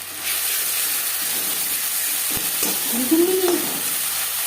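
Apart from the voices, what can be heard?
ginger and green chili paste frying in oil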